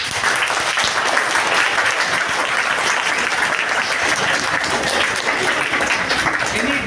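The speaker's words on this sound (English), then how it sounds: "give me a big round of applause" A large group of students at a personality development and life skills training session applauds loudly and continuously, a dense, even wash of clapping.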